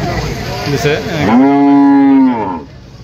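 A dairy cow at a small village cattle market in Joypara, Dhaka district, gives one long, loud, close moo of over a second, rising and then falling away, after a moment of brief animal grunts.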